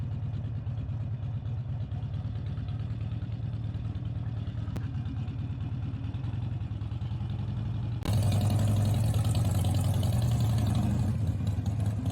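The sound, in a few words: Harley-Davidson motorcycle engine riding away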